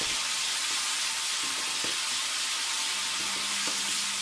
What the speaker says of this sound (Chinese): 下郫县豆瓣炒出红油